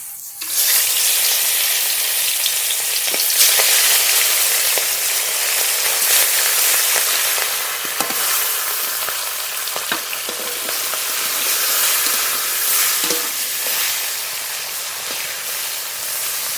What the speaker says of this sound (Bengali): উল্টে পাল্টে মাছ খুব ভালো করে ভেজে নেব।